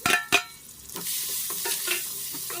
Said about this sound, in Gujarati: જીરું એડ કરશું થોડી હિંગ અને પછી સમારેલી ડુંગળી એડ કરી દઈશું